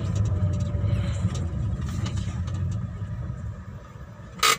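A car engine idling, a steady low rumble holding at an even level throughout with faint mechanical ticks above it and a brief louder burst of noise just before the end, no voices heard.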